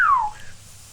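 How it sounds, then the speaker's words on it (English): A single clear whistle glides smoothly downward, loud and close, then fades into quiet room tone. "That's a great whistle."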